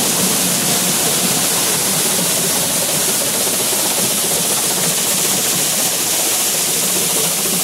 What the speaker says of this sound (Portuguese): A água vem natural lá, tá vendo? Vem lá de cima.